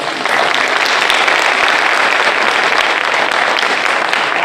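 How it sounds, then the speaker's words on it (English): Loud, dense applause fills the hall at a fire and EMS high school fire science cadet graduation ceremony, a steady unbroken roar of many hands clapping with no talk. "And give yourselves a round of applause."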